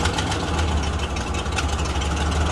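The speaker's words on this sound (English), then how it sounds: "Let me give it some throttle here." An old bush truck engine with a suspected exhaust leak revs under throttle, a loud, steady, rough mechanical drone filling the whole moment, close by, with no talk over it.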